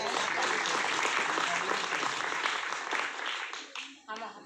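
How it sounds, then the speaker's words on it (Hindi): Audience at a political stage event clapping hard in a dense, sustained burst that thins and fades out near the end, with a voice starting to speak as it dies down. "जोरदार ताली मांगे।"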